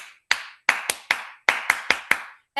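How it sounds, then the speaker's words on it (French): Audience members at a training event deliver sharp, single synchronized claps in a rhythmic sequence, each loud crack separated by brief silences, about eight claps in a row, close and crisp. "Je m'avais vous demandé une acclamation exceptionnelle, une acclamation bombardique"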